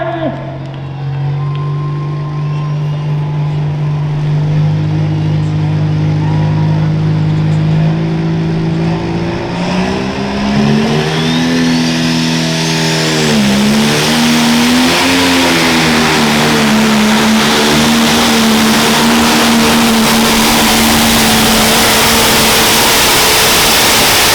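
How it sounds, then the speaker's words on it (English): Pro stock pulling tractors roar at a tractor pull in Monticello, Iowa, with a loud, sustained engine drone that rises and wavers in pitch as the throttle climbs, steady and close throughout. "Pro stock tractors coming your way."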